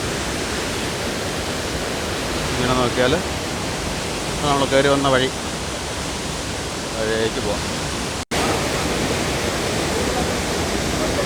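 Ezharakund waterfall in the Paithalmala valley, North Kerala, rushing as a steady broadband roar that fills the whole clip, with voices talking over it in bursts.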